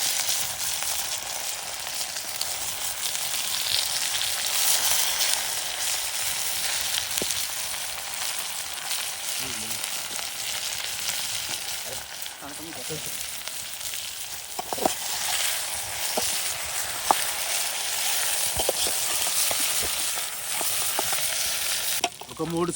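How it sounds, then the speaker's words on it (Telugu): Potato and brinjal frying in a pan for a curry, a steady loud sizzle with occasional stirring scrapes throughout, no voices. "కొద్దిసేపు వేగనిచ్చి ఒక 2 నిమిషాలు వేగినాక వంకాయ కూడా వేసుకుందాం."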